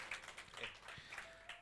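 A church congregation gives brisk, quick rhythmic clapping during a worship service, faint and in the background under a preacher's ongoing speech.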